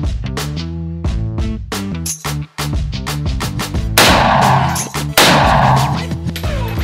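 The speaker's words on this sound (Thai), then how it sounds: "เดี๋ยวผมจะยิง AK ต้องเขาจะยิง M16 นะ" AK and M16 rifles fire outdoors in Cambodia, a rapid string of loud close single shots followed by heavier sustained bursts with sharp cracks and echoing tails.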